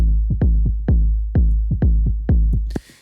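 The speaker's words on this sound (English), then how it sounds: "The first thing was the kick, sounds like this" Boomy electronic kick drum with a long low tail, struck about eight times in a steady pulse, loud and close, with each hit ringing out before the next and a burst of noise near the end.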